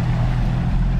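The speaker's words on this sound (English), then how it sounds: "So we're still in our first hour of breaking in this engine." A brand-new Yamaha VMAX SHO 200 outboard motor runs steadily at moderate, off-plane RPM during break-in, a continuous low throbbing drone with water and wind noise, close and fairly loud, without speech.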